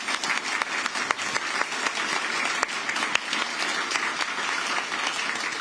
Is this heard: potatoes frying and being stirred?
no